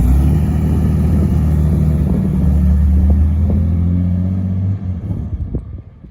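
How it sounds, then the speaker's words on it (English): A Ford Zephyr, a 1960s Australian police car, rumbles steadily with a low, loud engine drone for several seconds before the sound thins out and fades near the end, with no voices. "Ford Zephyr."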